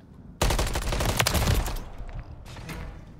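Loud, dense gunfire in a ranked online shooter game, a rapid burst of overlapping shots that starts abruptly and then tails off, with a second shorter burst near the end.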